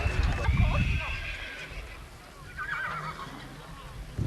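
An Arabian stallion neighs with a high, wavering whinny, and its hooves clip-clop nearby during an outdoor parade, with people talking over and around the horse sounds.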